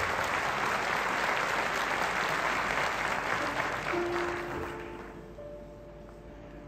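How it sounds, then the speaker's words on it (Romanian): An audience at a folk concert applauds, a broad wash of clapping that fades away after about four seconds as a few sustained instrument tones begin to ring through. "Aplauze!"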